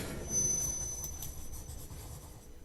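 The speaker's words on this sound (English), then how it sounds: "Two military trains in one day through LaGrange," A military train rolls through LaGrange, Kentucky, a continuous heavy rumble of rail cars with a thin high squeal of wheels on track running throughout, fairly close and steady, with no speech.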